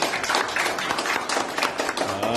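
A church congregation claps together in praise, a dense burst of many hands applauding at close range, continuous throughout with a low hum entering near the end.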